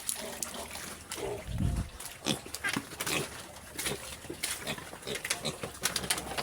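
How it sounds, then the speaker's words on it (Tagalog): Small piglets on a farm make noisy, scattered squeals and grunts at feeding time, a busy chorus of short calls at moderate distance with no clear talk. "maingay na din dito sa maliliit mga kababoy"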